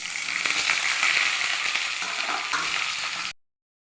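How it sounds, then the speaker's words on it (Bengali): Potatoes fry in hot oil for Kashmiri dum aloo, giving a continuous close crackling sizzle that runs for a few seconds before cutting off abruptly. "আলু লাল করে ভেজে নেব।"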